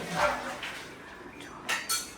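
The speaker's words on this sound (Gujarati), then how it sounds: "એ લોકો વાસણ ઉટકી રહ્યા છે" Metal pots and utensils being scrubbed and washed by hand in a rural Gujarati household, with a few sharp clinks and clanks over soft scraping, close by and without talk.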